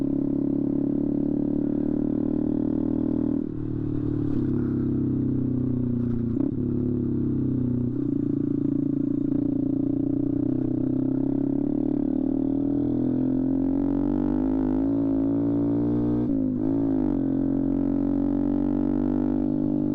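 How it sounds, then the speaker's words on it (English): A 2018 Honda Grom motorcycle runs steadily beneath the rider, its loud, raspy aftermarket-style exhaust droning close to the microphone, with brief throttle blips and a rising rev near the end. "Dude, this exhaust is fucking asinine."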